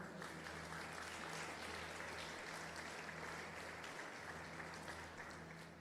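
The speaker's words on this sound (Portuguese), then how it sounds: "Você pode aplaudir o Senhor?" A church congregation applauds through a service, the steady wash of many hands clapping at a low, even level from start to finish, with a faint hum beneath it.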